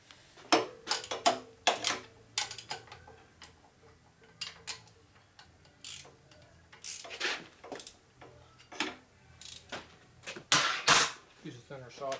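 Quarter-drive socket ratchet clicking in short irregular bursts while working on a custom CI Evo chopper bobber, close and crisp, with a voice talking in between.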